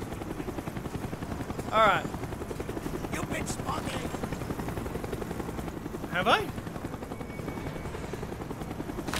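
A helicopter in the Call of Duty: Black Ops video game drones steadily with rapid rotor chop throughout, loud and constant, while voices talk over it and brief tonal game alerts sound twice.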